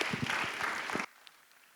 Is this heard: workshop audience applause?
yes